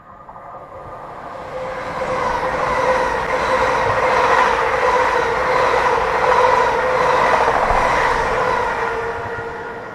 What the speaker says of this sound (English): Train 1 Echo 12 passing at speed.